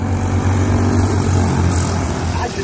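Junior race cars at Poplar Grove Speedway accelerate hard on the green flag, producing a loud, continuous engine roar that fills the entire stretch with no talk over it.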